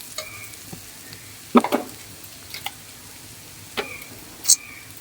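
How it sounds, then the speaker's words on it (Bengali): Salt, chili and turmeric get stirred into loitta shutki (dried Bombay duck) frying in a pan: a faint low sizzle runs underneath, broken by a few sharp scrapes and clinks of the spoon, with no voices. "লবণ, মরিচ আর হলুদ দিয়ে এবার ভালো করে মিশিয়ে নেব"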